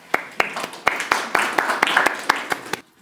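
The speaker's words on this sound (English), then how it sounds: "Please welcome them with a round of applause." Applause welcoming speakers at a university student research forum, a small group clapping in distinct, loosely spaced claps that thin out and stop abruptly near the end.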